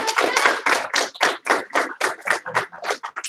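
A group of children and adults in a classroom clap for a student in quick, uneven bursts of many hands, a dense run of claps that keeps going rather than settling into three clean beats.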